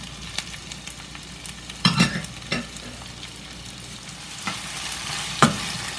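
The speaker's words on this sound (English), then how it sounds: "now I'm going to throw in the eggplants. Stir that in, and I will allow that to cook for 5 minutes." Eggplant pieces fry in a pan as a spatula stirs them, giving a continuous close sizzle broken by several sharp scraping knocks and clatters, heard alone without speech.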